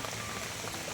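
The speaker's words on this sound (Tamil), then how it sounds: "மழை வந்துச்சு." Steady rain falling outdoors on an occasion when a driver has just dropped off a customer, a dense even hiss of drops on surfaces with no break and no voices.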